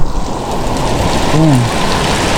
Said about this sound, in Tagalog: Ang maulan.